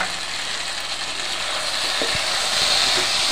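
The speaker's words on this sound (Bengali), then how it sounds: "এরকমভাবে নেড়ে চেড়ে ভালো করে নেব।" Taro stolons with shrimp and fried potatoes are stirred in a pan over heat, giving a steady close sizzle with soft scraping knocks of the spatula.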